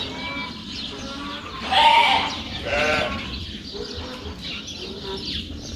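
Several sheep bleat nearby, their wavering calls overlapping in a flock, with one louder bleat standing out.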